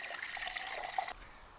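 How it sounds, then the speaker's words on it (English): Water is poured from a 3-liter Osprey Hydra bladder into a Jetboil stove outdoors on a hiking trip in Sweden, a short close steady trickle lasting about a second before it stops. "I'm just gonna pour some water directly here from my bladder. From my Hydra bladder."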